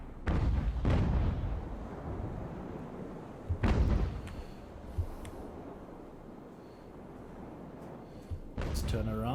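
Naval cannon broadsides fire in the age-of-sail warship game Ultimate Admiral: Age of Sail, several loud booming shots bursting out with rolling rumble in between, a heavy cluster at the start and more blasts later.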